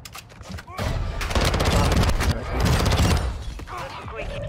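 Gunfire in the Warzone battle royale, arriving as dense, rapid bursts of automatic shots with mechanical clatter, in two sustained volleys over a rumbling battle backdrop.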